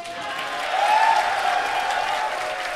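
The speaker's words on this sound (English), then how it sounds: "I want to hear the crowd get loud for Skeleton." A large crowd at a Melty Blood fighting game tournament applauds and cheers in a dense, steady wash of clapping that swells slightly in the middle, with no talking over it.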